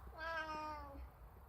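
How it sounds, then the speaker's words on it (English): A pet cat meows in one drawn-out, rising and falling cry at close range, fairly soft, with no other voices around it. "that's my cat, and I've got to go and feed him now"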